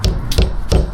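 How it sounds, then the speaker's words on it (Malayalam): Three quick, sharp hammer blows crack a hard Turkish treat at a school in Amasya, Turkey, spaced evenly and close to the listener. "എനിക്ക് പൊട്ടിക്കാൻ പറ്റാത്തതുകൊണ്ട് ഇത് തന്നു കേട്ടോ, ഹാമർ"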